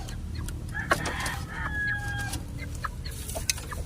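Hens cluck and a rooster crows over a steady low rumble of farmyard noise, with scattered bird calls in the background.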